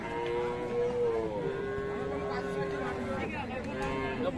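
A Friesian cow at the Ambari haat cattle market in Dinajpur lets out a long, low, loud moo nearby, over a background of crowd chatter.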